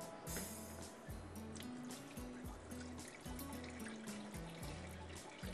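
Water drains off soaked rice while making sabz masala pulao, a steady close trickle and splash running throughout with background music over it.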